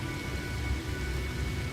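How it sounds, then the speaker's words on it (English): Steady rain in the survival game No Man's Sky, a constant broadband hiss with a low rumble underneath, even and unbroken throughout with no voices. "Okay, the storm has cleared. It's still raining though."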